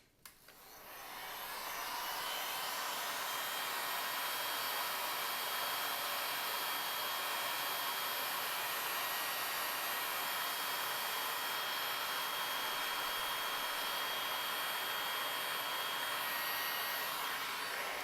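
A heat gun or hot-air blower warms the sides of a Samsung Galaxy S3 phone to lift its glass, a steady, loud, close airy roar that starts with a click and holds unbroken throughout.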